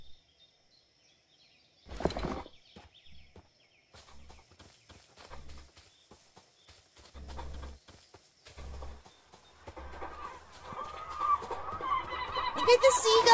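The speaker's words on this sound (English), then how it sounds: "Look at the seagulls!" Seagulls call in the pirate survival game Captain Bones, a string of honking, squawking cries in short bursts that grow louder and denser toward the end against a quiet background.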